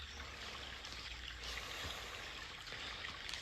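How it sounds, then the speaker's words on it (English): A babbling brook trickles and gurgles steadily at a moderate distance, soft continuous flowing water without talk. "Now the only thing you should hear is my babbling brook."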